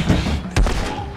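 Gunfire in the video game The Last of Us, set in the woods: one sharp, loud gunshot cracks out midway over a busy game soundscape, with a fainter knock earlier.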